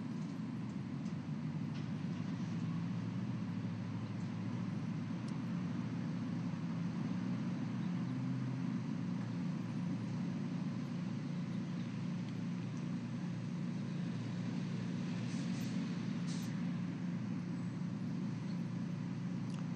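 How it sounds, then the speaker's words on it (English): Steady low street traffic rumble outside a car wash site, continuous and moderately distant with no talk over it. "Most of the noise you're hearing now is really just background noise from the street."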